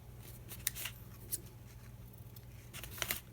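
Scissors trimming paper tags for a handmade journal, a few quick, close snips in small clusters over a quiet background, with no talking.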